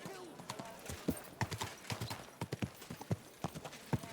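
A horse's hooves clip-clop in a steady walking rhythm in the Kingdom Come Deliverance 2 video game, with an occasional whinny and speech running over the hoofbeats.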